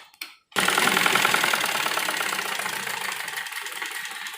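A sewing machine stitches pleats into frock pieces, starting after a brief quiet moment and then running as a steady, close, continuous whir that slowly softens toward the end.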